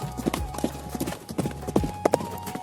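A soldier riding a horse: rapid, crisp clip-clop of hooves in a steady trotting rhythm, close and clear, with occasional low thuds and no voices.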